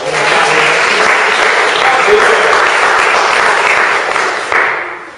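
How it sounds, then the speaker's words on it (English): A crowd at a fitness challenge finale gives the participants loud, sustained applause, thick and continuous before it tapers off near the end. "round of applause."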